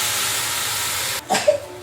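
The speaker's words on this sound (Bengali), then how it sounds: "এই যে পানি দিয়ে দিই, মশলা ভাজা হয়ে গেছে।" Constant loud frying hiss, then a sudden splash and bubbling burst as water hits the hot pan of frying spices.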